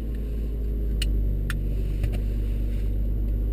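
A car engine idles and pulls away steadily in first gear as it leaves a home garage into an alley, with a constant low rumble and a few faint clicks and knocks along the way.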